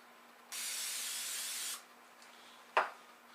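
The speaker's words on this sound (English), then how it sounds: "Spray it all up in the bowl." Non-stick cooking spray sprayed into a bowl: one steady hiss lasting just over a second, close and clear, followed by a brief clink and quiet room tone.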